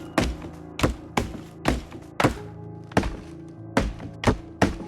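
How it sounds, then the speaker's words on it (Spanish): A machete chops and smashes into a wooden door, about ten heavy, evenly spaced thudding blows, each a sharp loud impact with a short rumbling decay, no talking. "comenzó a destrozar la puerta de madera"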